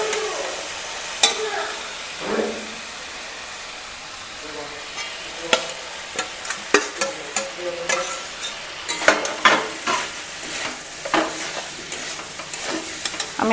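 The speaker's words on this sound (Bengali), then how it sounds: "আমি এখন আলু সয়াবিনটা দিয়ে ভালো করে কষিয়ে নেবো" Potato and soybean chunks stir-fried in spiced oil with ginger and cumin, a low sizzle under repeated sharp scrapes and knocks of a spatula against the pan, growing busier toward the end.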